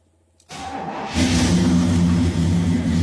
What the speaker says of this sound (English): This is the 330 Jetfire V8. Really cool motor.